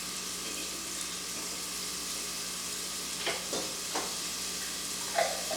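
Garlic and thyme sizzle and fry steadily in a pot, a constant crackling hiss with a few brief stirring clinks near the end and no voices.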